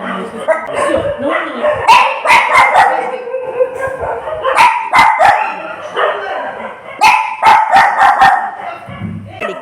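A dog barking repeatedly nearby in loud bursts, with yips and a whimper mixed in, while a person speaks over the barking.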